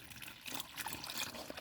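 Water trickles and splashes as it pours into a cup for a dog, a light, continuous dribbling stream heard close up in a car.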